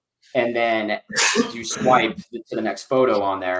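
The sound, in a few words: sneeze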